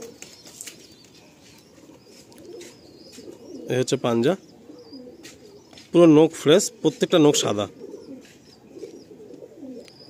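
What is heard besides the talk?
female pigeon cooing in a loft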